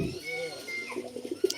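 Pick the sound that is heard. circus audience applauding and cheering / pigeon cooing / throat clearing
pigeon cooing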